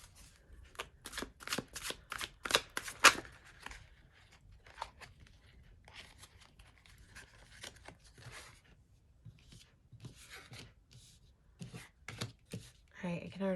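Healing Light Tarot cards shuffled by hand in repeated close, crisp riffling bursts that grow sparser toward the end, with faint handling noises between them.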